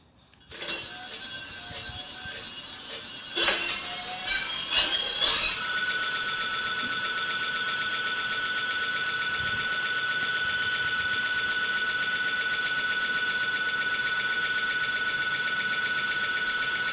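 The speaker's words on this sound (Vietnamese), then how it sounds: "Tốc độ của động cơ này là 470 vòng trên phút." A 60V 600W electric motor runs at speed, a steady high-pitched whine that starts abruptly and holds constant, with a few brief clicks and rattles early on, close and loud with no talk.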